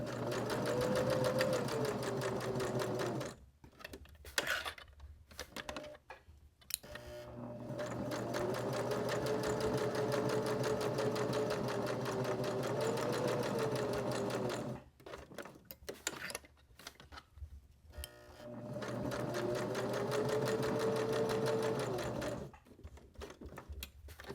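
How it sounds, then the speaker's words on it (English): A sewing machine stitching fabric for a cord keeper runs in long steady whirring bursts, stopping briefly for a few clicks and handling noises before starting again, close and clear. "I want to leave my needle down, lift my presser foot, rotate my project, and then continue on"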